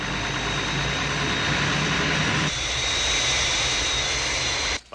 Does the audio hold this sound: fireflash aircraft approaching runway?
yes